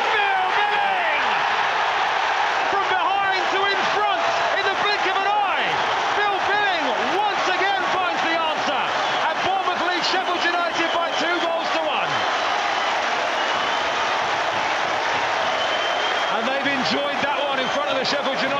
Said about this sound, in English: The crowd have come alive as well here.